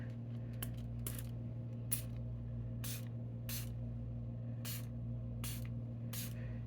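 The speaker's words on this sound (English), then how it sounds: "So we'll just spray it on here" Short bursts of aerosol spray hiss onto embossed paper in an uneven series, about nine quick sprays, close by over a steady low electrical hum.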